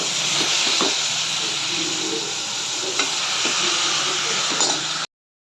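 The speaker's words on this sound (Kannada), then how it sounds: "ನಾನೀಗ ಮಟನ್ ಎಲ್ಲ ಒಗ್ಗರಣೆ ಹಾಕಿದೆ" Mutton tempered and stir-fried in a pan, a steady loud hiss of sizzling oil with a few scraping stirs, voices faintly underneath.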